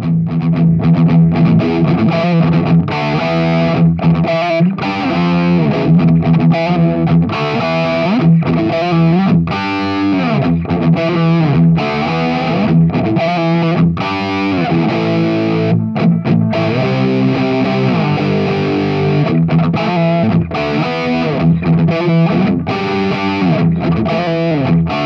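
Cranked electric guitar amplifier run through a Weber Mass 100 reactive attenuator, playing a loud, continuous distorted riff with chugging rhythmic chords and brief gaps, heavily saturated throughout with no voices.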